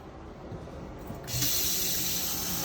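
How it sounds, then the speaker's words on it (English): Water runs steadily from an RV kitchen faucet into a sink, then turns louder and brighter as the flow switches to a hissing spray. "You can make it spray like a shower or like that."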